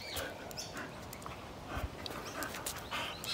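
A dog pants quietly after catching a tennis ball, soft rapid breaths with faint whimpers and scuffling, no voices over it.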